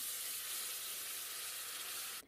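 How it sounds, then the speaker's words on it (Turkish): A loud, steady hiss and sizzle of a litre of cold water hitting a hot pan for broccoli soup, continuous for a couple of seconds before cutting off abruptly. "1 litre soğuk su ilave ediyoruz bu aşamada."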